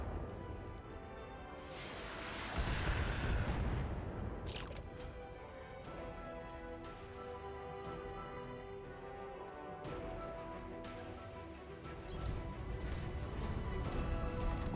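Mech weapons fire at several targets in the BattleTech video game: layered booms and crashes over a continuous musical bed, swelling in bursts, with no voices.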